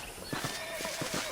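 Saddled horses in Red Dead Redemption on PS5 whinny while hooves clop in a steady, rhythmic walk, all fairly close and moderately loud.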